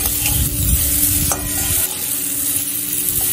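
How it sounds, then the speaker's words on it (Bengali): Pumpkin pieces with ground turmeric are sautéed in a pan, a close, steady sizzle mixed with the scraping of a spatula stirring throughout, without any voices. "এই হলুদের সাথে কুমড়োটা আবার একটু কষিয়ে নেব"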